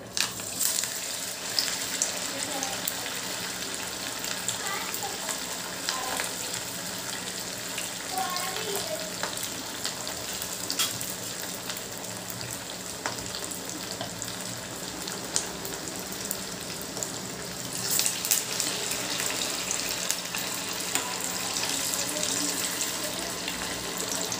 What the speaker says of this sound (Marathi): अगदी मोठ्या आचेवरच आपल्याला हे मेंदूवडे फ्राय करून घ्यायचे आहेत